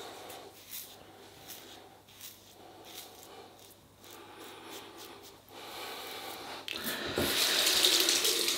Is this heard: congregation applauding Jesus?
no